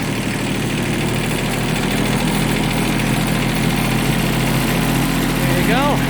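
A Kubota B6200 tractor pulls away in gear, its engine a steady, close, low rumbling drone with even throbbing throughout and no pauses.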